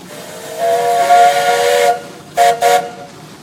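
Steam engine whistle at a steam engine show, one long loud harmonic blast with hiss, then two short toots in quick succession, close and alone.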